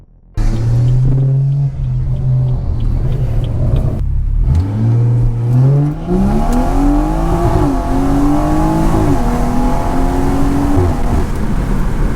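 A BMW 340i launches hard on a wet road in the rain, its engine roaring loud and close as the revs climb, drop briefly at a gear shift, then rise again through several strong, rising pulls.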